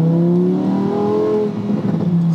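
A car accelerates from close by, its engine note rising smoothly in pitch as it revs, loud and steady for a couple of seconds.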